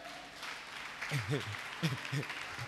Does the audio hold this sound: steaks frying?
no